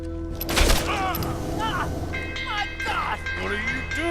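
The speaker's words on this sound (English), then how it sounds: "They're shooting at us!" Gunfire in Red Dead Redemption 2 cracks out as a sharp, loud burst early on, followed by scattered distant reports under excited voices and in-game sound and music.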